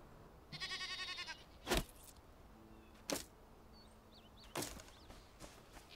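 A goat in the Enshrouded video game lets out a short wavering bleat, followed by several sharp, louder thumps or whooshes spaced apart over a faint background.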